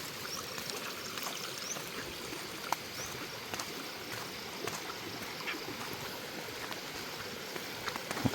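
Floodwater draining away after a night of heavy rain, a steady rushing and trickling flow, continuous and moderately close, with faint splashes now and then and no voices.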